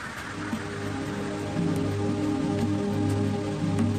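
Rain falls steadily in a tropical rainforest in Thailand, a dense, even hiss of drops striking leaves and surfaces, with occasional louder individual splashes and no voices.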